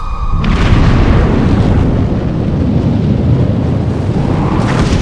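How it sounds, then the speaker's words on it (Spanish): A massive asteroid impact explosion sends out a roaring shock wave, a loud, dense, continuous rumble that sets in abruptly and sustains without letting up. "Es la onda expansiva."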